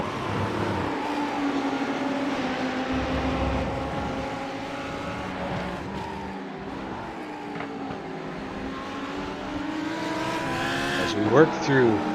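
Race cars lapping the Interlagos circuit in a grand touring race, with steady engine whine rising and falling through gear changes, heard under continuous commentary.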